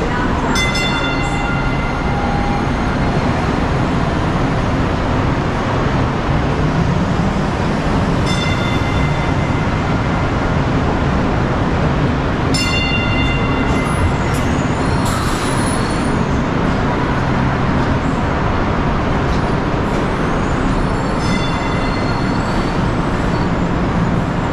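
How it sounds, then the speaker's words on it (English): Kinki Sharyo DART light rail train on the Dallas Orange Line pulling away from a station platform, a steady broadband rumble and hum lasting throughout with faint high squeals, no talk. "line train departing track 2 towards downtown Dallas."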